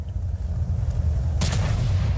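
A single sharp HE shell shot from an Object 268 tank destroyer in World of Tanks, a brief loud crack over a low rumbling engine drone.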